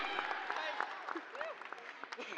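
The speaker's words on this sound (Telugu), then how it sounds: "గట్టిగా క్లాప్." Audience applause at a movie press meet with media, a steady patter of many hands clapping at moderate volume, with scattered voices and calls over it throughout.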